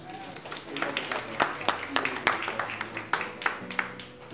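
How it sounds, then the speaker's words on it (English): Brief scattered applause from a small audience at a lunch-and-learn gathering, light crisp claps ringing out under a speaking voice. "Can we please give him a round of applause?"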